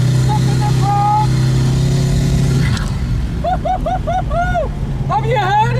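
A Koenigsegg Regera hypercar drives past a large crowd, its engine giving a steady low drone that fades after a few seconds while loud birdsong-like chirps and people's voices carry on above it.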